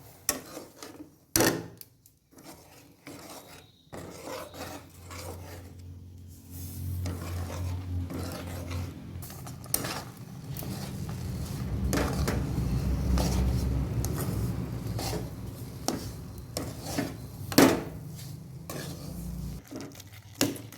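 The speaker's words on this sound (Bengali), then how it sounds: "এখন সুজিটা অল্প অল্প করে দিয়ে নেড়ে চেড়ে নেব" Semolina is stirred into boiling milk in a pot on the stove, with a steady scraping swirl and scattered metallic clanks of the spoon against the pot, close and moderately loud.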